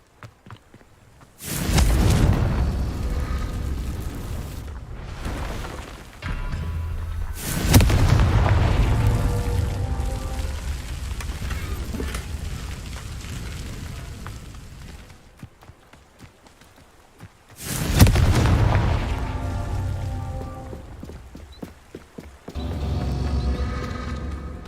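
Booming explosive blasts from the Confringo fire spell in the Hogwarts Legacy video game, several heavy bursts spaced seconds apart, each loud and rumbling with a lingering decay and crackling debris.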